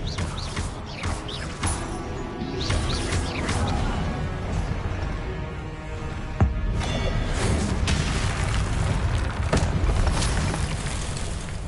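Explosive Confringo spell blasts in Hogwarts Legacy combat land as a series of rumbling booms and crashes, with one sharper impact standing out midway and dense battle noise continuing around it.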